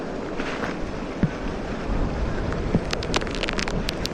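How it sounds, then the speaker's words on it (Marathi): Steady heavy rain hisses evenly throughout, during fishing with earthworm bait beside rising water, broken by a few sharp knocks and taps nearby. "पाऊस जास्त येतोय"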